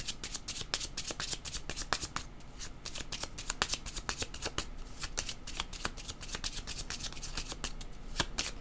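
Cards shuffled by hand for a card reading, a long fast run of crisp, close riffling flutters repeating steadily without pause.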